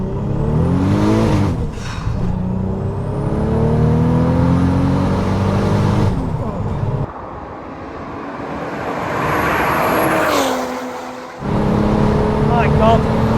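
VW Tiguan with a 3.6 R36 turbo engine accelerating hard through the gears, loud rising engine pitch with shift breaks, heard from inside the car with people talking over it.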